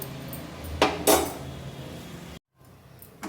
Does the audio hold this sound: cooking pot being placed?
yes